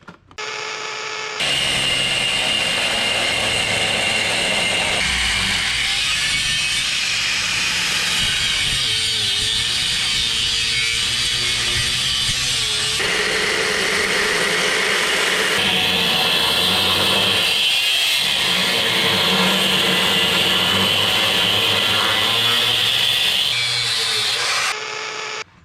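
Power tool cutting through the sheet-metal body of a Toyota Tacoma for wheel and tire clearance, a steady loud grinding whine running nearly unbroken for over twenty seconds with shifts in pitch as the cut progresses.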